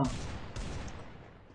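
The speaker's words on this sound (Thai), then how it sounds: "ตอนนี้ยิงเขายิงเขาไม่โดนแล้วน้องมะปราง" Gunfire in the Free Fire battle royale video game, a burst of loud shots at the start followed by a dense, sustained rattle of game weapon fire.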